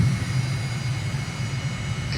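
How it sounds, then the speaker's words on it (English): Airliner landing gear rumbling on approach in Microsoft Flight Simulator, a low steady rumble under broadband engine and wind roar, moderately faint and continuous. "Hear the rumble of the gear."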